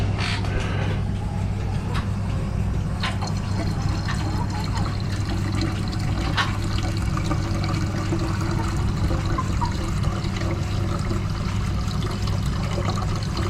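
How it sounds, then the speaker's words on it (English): Liquid from a computer-parts gold recovery process is poured into a gold wash vessel, giving a steady, continuous pouring and trickling wash heard up close, with faint clinks over the flow. "Alright, so I'll pour this off into my gold wash"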